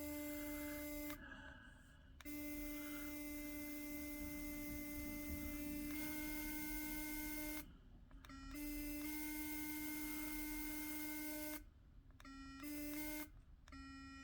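An electric sonic toothbrush runs with a steady high-pitched buzzing hum, switching off and on in short gaps between stretches of continuous tone, close and fairly quiet.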